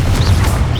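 A Confringo blasting-spell explosion in the Hogwarts Legacy video game, a loud, dense low boom and crash that fills the short moment alone, with a brief whooshing shimmer above it.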